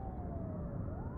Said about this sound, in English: the sound of sirens are approaching